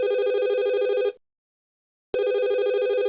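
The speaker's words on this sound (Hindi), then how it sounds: "अचानक उस सन्नाटे में फोन की घंटी बजी" A telephone bell rings in a quiet room with a loud, steady electronic trill, breaks off into silence for about a second, then starts ringing again.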